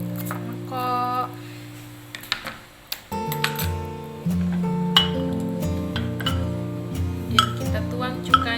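Food is put into a glass bowl while making pempek kapal selam, giving sharp clinks and taps of glass and utensils under sustained tonal background music, with a few louder knocks near the end.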